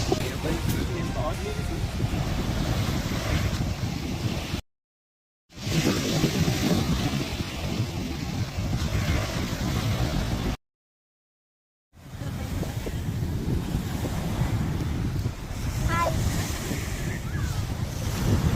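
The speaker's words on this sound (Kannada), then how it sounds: "ಇಲ್ಲಿನ ಅಲೆಗಳ ಸೌಂಡ್ ಕೇಳಿ ಆ್ಯಕ್ಚುಲಿ ತುಂಬಾ ಒಂಥರ ಪೀಸ್ಫುಲ್ ಅಂತ ಅನಿಸ್ತಾ ಇತ್ತು" Ocean surf rolls and washes steadily onto Mukilteo Beach near Seattle, mixed with gusts of wind rumbling on the microphone, broken by two short gaps of silence.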